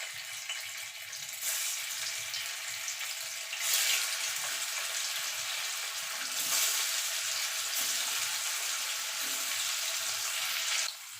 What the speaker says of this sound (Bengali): এবার তেলটা গরম হলে পনিরগুলো একটু ভেজে নেব